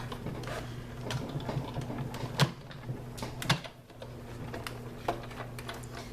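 Die-cutting machine with its handle being cranked to pass a fern leaf die through green cardstock, giving steady low mechanical whirring with a series of soft ticks and clicks at uneven intervals.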